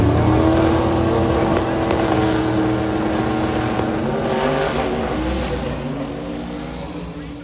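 Twin-turbo drag race car making a full-power run, a loud sustained engine roar with wind rush that slowly fades as it pulls away down the strip.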